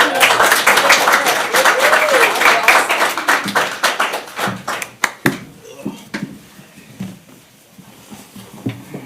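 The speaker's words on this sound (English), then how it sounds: "Let's give them a round of applause." Audience applause at a District Heights city council meeting, a dense burst of many hands clapping that thins out into scattered individual claps and fades over several seconds, with faint voices underneath.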